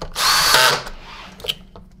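A power driver whirs in one short burst, driving a screw into a SEBO ET-C vacuum cleaner power nozzle, followed by a small click and plastic handling noises.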